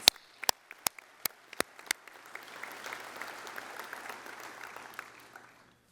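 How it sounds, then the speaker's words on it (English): Audience applause at a veterans' organization business session: a few sharp separate claps open, then swell into sustained, moderately loud applause from a crowd in a hall that slowly fades. "And that, I give you a round of applause."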